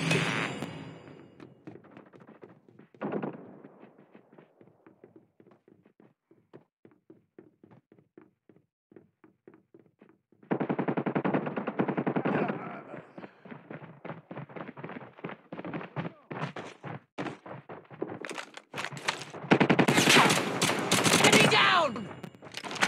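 Gunfire in a Call of Duty Mobile multiplayer ranked match, sparse single shots at first, then dense rapid bursts and loud automatic fire near the end, with brief voice callouts in between.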